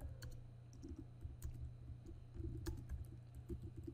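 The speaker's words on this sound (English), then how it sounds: "just hit download and then type in a name of your file" Someone types a file name on a computer keyboard, a quiet, steady run of key taps and clicks with no talk.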